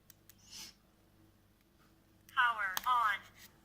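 LIVALL cycling helmet speaker playing its power-on voice prompt, a short electronic announcement with a rising chime near the end, heard faintly in a quiet room after a brief breath-like noise.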